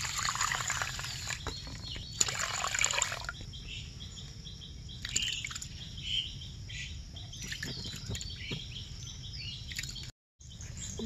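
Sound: washing broken rice and lentils in water

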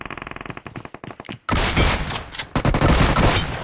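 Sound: gunfire in the video game PUBG Mobile

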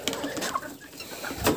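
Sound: chicks and guinea fowl chicks calling

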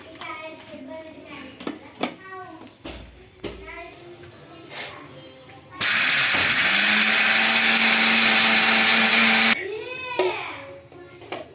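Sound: mixer grinder grinding batter

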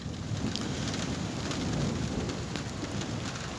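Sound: thunderstorm with rain and thunder

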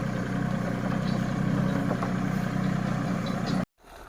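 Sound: farm tractor with trailer hitch engine running

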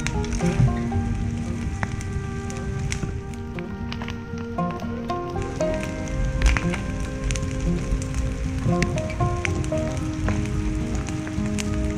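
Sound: rain falling

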